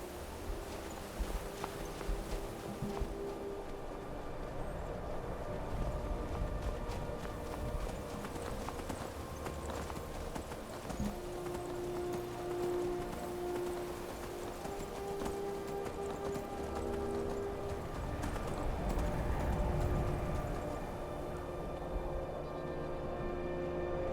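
Horse hooves in the snowy video game Skyrim, a steady close clip-clop walking rhythm that continues throughout, with an occasional whinny and soft ambient music underneath.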